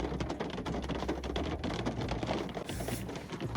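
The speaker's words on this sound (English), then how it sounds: "It's raining." Steady rain falls outdoors, a dense continuous patter and hiss of drops with scattered sharper taps, fairly loud and unbroken, with no voices.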